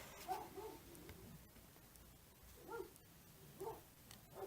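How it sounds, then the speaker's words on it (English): A dog barks faintly in the distance, a few scattered short bursts separated by quiet stretches. "it's not our dog barking"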